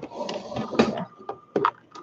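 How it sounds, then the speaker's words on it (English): A sewing machine is shifted across a tabletop, giving a few short knocks and scrapes of its body against the surface, close and moderately loud, with no talk. "I'm just gonna have to move my sewing machine away"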